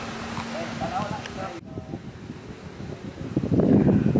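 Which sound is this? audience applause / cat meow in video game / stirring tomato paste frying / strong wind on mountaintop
strong wind on mountaintop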